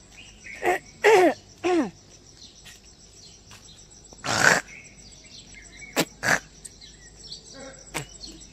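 A person coughs and clears their throat outdoors near a hospital, several short rough bursts spaced over a few seconds, with a couple of louder hacks in the middle and quieter ambient sound between them.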